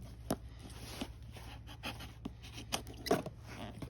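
A pocket knife slices open a shipping package, with soft scraping, cutting and crinkling sounds in irregular bursts, fairly quiet and close, with no talking.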